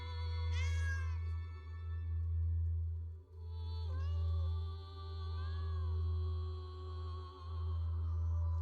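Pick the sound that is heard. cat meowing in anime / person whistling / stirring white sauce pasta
cat meowing in anime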